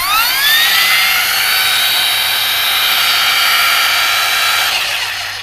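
A Ryobi cordless power tool runs on an aftermarket battery, spinning up to a high-pitched whine and holding a steady, loud drone for several seconds before winding down at the end.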